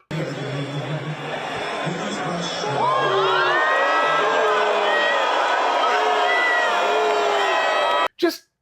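A large outdoor crowd in Bryant Park, New York, booing and jeering Donald Trump; a sustained, loud roar of many voices with rising shouts and whoops swelling midway, continuous and dense before cutting off abruptly.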